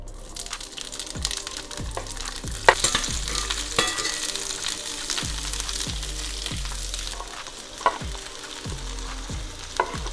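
Peppers fry in a hot cast iron skillet with a loud, continuous sizzle and repeated scraping stir strokes, punctuated by a few sharp clacks of a utensil striking the pan.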